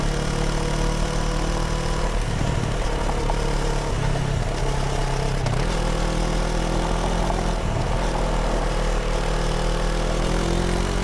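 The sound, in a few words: CFMoto 650 ADVentura motorcycle riding on gravel and dirt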